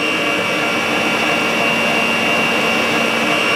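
Electric hand mixer whipping a pudding mixture for a black sticky rice tape cake, a steady, loud, high-pitched whirring motor drone that holds without break throughout.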